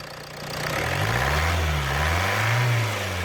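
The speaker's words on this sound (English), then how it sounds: "Rev it up." A Ford Mondeo in limp mode with fault P2263 and a carboned-up engine is revved up from idle, its tone rising and wavering in a couple of swells, close and loud, with no talking.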